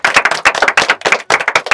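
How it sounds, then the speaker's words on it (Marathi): Cast of the Marathi web series Dahavi-A clapping for themselves in a Radio City Marathi studio: a quick, uneven flurry of sharp, close hand claps with brief gaps, heard alone. "एकदा स्वतःसाठी जोरदार टाळ्या वाजवा"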